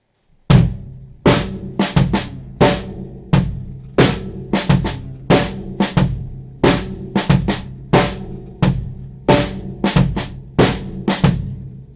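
A ska drum groove with sharp rim shots, quiet ghost notes and a bass drum on a kit, played close and loud in a steady repeating pattern of cracking accents with soft taps between.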